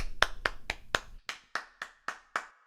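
Nine crisp hand claps in a steady even rhythm open a rewritten song, close and clear with no voices, the later ones slightly brighter and ringing.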